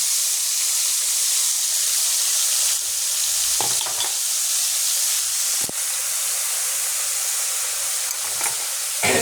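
Mixed spice paste sizzles and fries in a hot pan with bottle gourd, a steady loud hiss broken by a few scraping stirs, with no voices.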